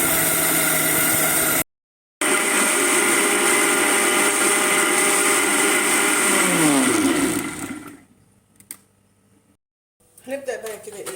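A kitchen blender whirs loud and steady, mixing milk powder, sugar and vanilla for a cake batter, with one brief cutout early on; the motor then winds down and stops, followed by faint handling clatter.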